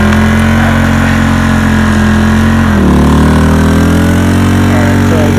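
A generator or small engine runs close and loud during off-grid water collection in freezing conditions, with a steady idle whose pitch drops and settles about halfway through as the load increases and it labours harder.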